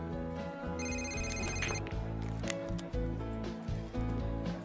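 A telephone bell rings in a short burst of repeated electronic trills, heard over a dense bed of background music.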